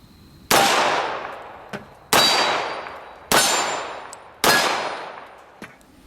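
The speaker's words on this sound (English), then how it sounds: "I was firing it into steel" FN .45 pistol shots striking a steel popper target: four sharp metallic clangs spaced about a second apart, each ringing out and decaying, with faint smaller pings between.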